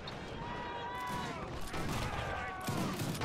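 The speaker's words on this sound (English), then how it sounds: "Here my rifles are taking toll." Rifle volleys crackle through a Zulu war strategy game set at the Battle of Isandlwana, a dense, continuous spread of gunfire with shifting tonal battle noise layered over it, loud throughout.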